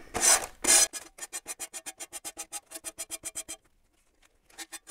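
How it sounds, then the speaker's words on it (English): A sanding block rubs down the edges of decoupage paper: two heavy scraping strokes, then a quick, even run of about a dozen lighter rasping strokes, a short pause, and a few more strokes, close and clear with no talk. "I'm just going to take my sanding block and I'm going to gently"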